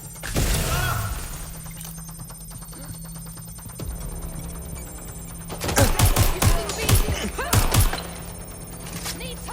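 Bursts of gunfire in the video game Watch Dogs Legion, with scattered loud shots and a cluster of rapid, sharp reports near the end over a steady background hum.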